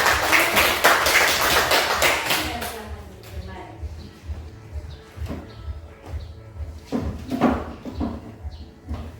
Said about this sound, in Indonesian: berikan aplaus bagi kelompok 1